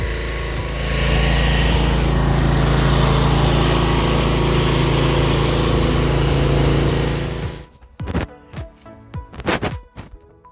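A pressure washer blasts a driveway with a loud, steady roar for about seven seconds, then cuts off and leaves uneven, choppy bursts of spray and handling noise.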